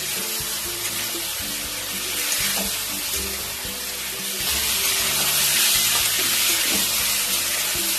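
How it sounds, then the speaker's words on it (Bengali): Frying masala sizzles loudly and steadily in a pan after a splash of spice-rinse water is added, with a bubbling hiss and occasional stirring scrapes while fish curry is being made, and no voices present. "খুব সামান্য একটু মশলা ধোয়া জল দিয়ে দিলাম।"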